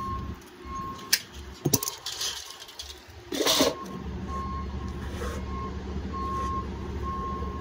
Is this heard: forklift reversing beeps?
yes